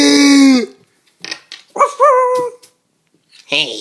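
A person's voice imitates a dog with a series of short, loud bark-like yelps and whimpering cries, close up, with a long wavering call at the start and several clipped yips following after pauses.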